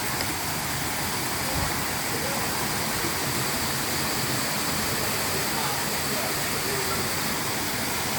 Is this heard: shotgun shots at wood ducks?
no